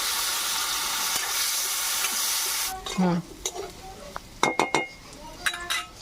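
Potatoes with a little salt and turmeric fry in oil with a steady sizzle, then the sizzling drops away into sharp metallic clinks and scrapes of a utensil against the pan.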